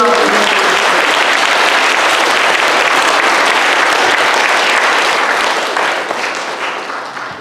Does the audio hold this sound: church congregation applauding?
yes